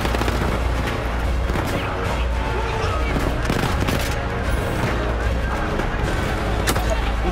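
Gunfire in the Battlefield 1 single-player war stories, a dense, continuous battlefield din of shots and distant bursts under heavy rumble, with voices talking over it throughout.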